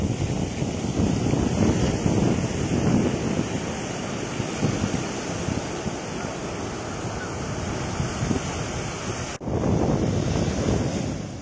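Waves of the Bay of Bengal wash steadily onto an empty beach, a continuous loud roar of surf mixed with heavy wind buffeting the microphone, with no one talking.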